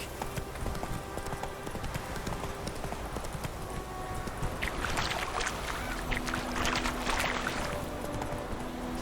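Horse hooves clip-clop steadily in The Witcher 3, with a continuous water-like wash and louder, busier rustling in the second half, all without speech.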